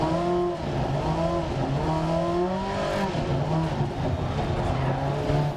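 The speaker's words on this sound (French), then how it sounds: "Et le son de l'Ascona est vraiment sympa." Opel Ascona 400 rally car in DiRT Rally 2.0 on a night stage, its engine droning loudly and steadily with rising and falling harmonic pitch as it accelerates, close and alone without talk.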